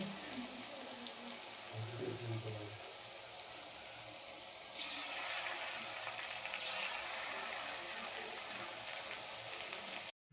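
Banana fritters (ripe banana) sizzle in very hot oil, a steady crackling hiss that swells louder partway through, with faint clinks and no talking.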